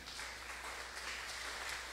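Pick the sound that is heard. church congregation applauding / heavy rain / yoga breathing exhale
church congregation applauding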